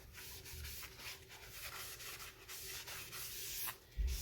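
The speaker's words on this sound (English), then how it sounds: "I'm just gonna try and wipe off some of these dirty fingerprints I got on here" A towel rubs over a brake rotor from a Teraflex front big brake kit on a Jeep JKU, wiping off fingerprints with a continuous close scuffing and swishing for about four seconds, ending in a brief bump.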